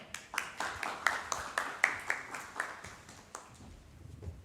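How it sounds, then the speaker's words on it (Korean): Seminar audience at a POSCO TJ Park Foundation climate change event applauds as the foundation's standing director is welcomed to the podium. Scattered, moderate claps at mid distance fade out after about four seconds. "큰 박수 부탁드립니다."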